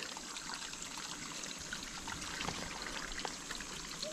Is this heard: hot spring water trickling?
yes